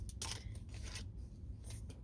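Scissors snipping through a plastic gallon jug, a few quick crisp cuts with short pauses between them, close and fairly quiet, without talk.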